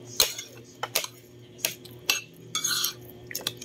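Cutlery and plates clinking during dishwashing: a few sharp metallic clinks and a short scraping rattle, spaced irregularly over a quiet hum, near and moderately loud, no talk.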